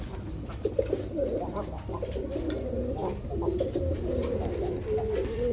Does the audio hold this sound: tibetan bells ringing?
no